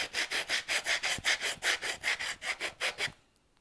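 A wooden workpiece is rubbed with a sanding block in quick, even back-and-forth strokes, about a dozen close raspy passes before it stops.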